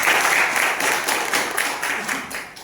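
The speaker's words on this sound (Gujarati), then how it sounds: "જોરદાર તાળી થઈને" Audience applause at a livestock health product presentation, a dense wash of clapping that stays steady and fairly loud, then fades slightly toward the end.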